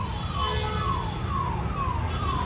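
An ambulance siren wails in repeating descending sweeps amid New Delhi street traffic, steady and moderately loud over a dense background rumble of vehicles, with no talk.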